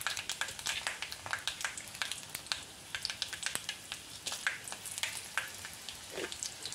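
Mustard seeds and cut dried red chilies crackle in hot oil for a tempering, giving a quiet, continuous patter of sharp pops and spits close by.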